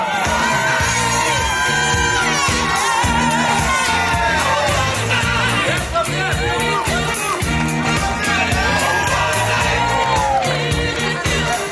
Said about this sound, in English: let's make some noise for the ring security, Alejandro, Ramiro Jr., and the flower girl,